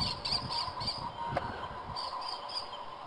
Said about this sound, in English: And the birds are here. That's a hawk, I guess.